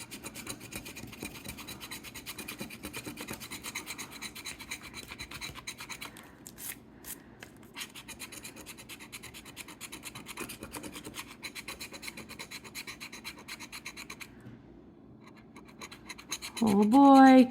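Ohio Lottery Cash Explosion scratch-off tickets are scratched in a close, continuous run of quick rasping strokes with brief pauses, ending in a burst of excited voice.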